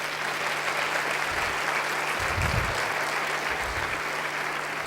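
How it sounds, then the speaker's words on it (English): A crowd at an evening mayoral education forum in Chicago gives a final round of applause for the moderator, a steady wash of clapping from a large audience, with a few low thumps underneath. "Please join me in one last round of applause for our moderator this evening"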